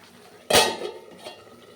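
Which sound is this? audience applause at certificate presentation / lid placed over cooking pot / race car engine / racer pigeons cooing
lid placed over cooking pot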